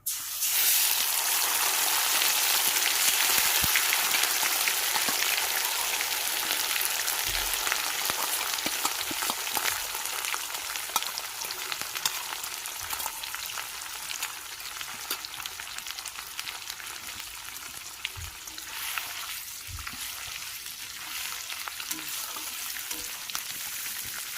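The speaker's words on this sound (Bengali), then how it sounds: "পেঁয়াজ হালকা ভাজা হয়ে গেছে" Boiled, ground onion paste fries in a pan for a katla fish rezala, making a constant close-up sizzle with a few faint stirring knocks throughout.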